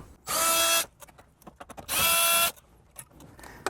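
Two short bursts of a power tool whirring close by as 10mm bolts are removed from the dash panel of a 2014–2021 Lexus GX, with faint clicks and handling noises in between.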